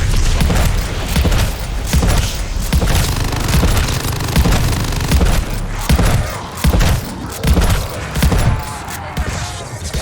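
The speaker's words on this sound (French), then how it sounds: "Et toi, tu te prends ma grosse grenade." Explosions and gunfire from Call of Duty: Vanguard, a loud, dense barrage of booms, thuds and rapid shots that continues without pause; a voice shows through only faintly beneath the combat.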